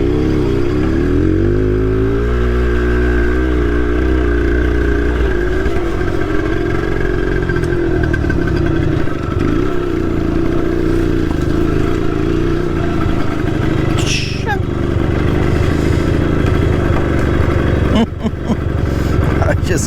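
A Suzuki X-90 driving through an RC track course, its engine droning steadily and close, with a few brief clattering bumps near the end.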